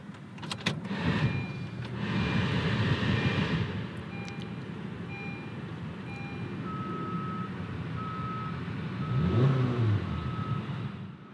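2018 Honda Fit Sport starting up, a low engine idle rumble settling in after a brief cranking burst, with steady electronic chimes beeping at intervals in the cabin, fairly faint and without talk.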